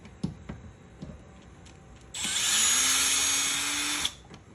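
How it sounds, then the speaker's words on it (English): Power drill with a Phillips bit driving a screw while installing a speaker in a third-generation Toyota Tacoma, one close whirring burst of about two seconds after a few light clicks. "Try to use my drill."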